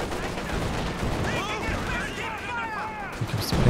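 Artillery barrage in a tank battle video game, a dense run of overlapping booms and crackling impacts with descending whistles, steady and loud throughout, with a commentator's voice faintly mixed in.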